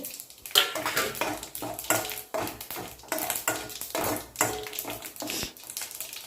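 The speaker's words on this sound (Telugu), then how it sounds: "కరివేపాకు పసుపు కూడా వేసుకొని కలుపుకోవాలి" A spoon stirs a tempering of mustard seeds, cumin, curry leaves and turmeric in a pan, scraping and clinking against the metal in quick, uneven strokes with a faint frying hiss underneath.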